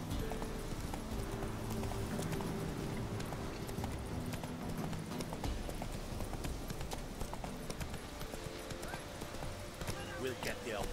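Horse hooves gallop in The Witcher 3, a steady rapid clip-clop running throughout under game music, sounding fairly close, with speech over it.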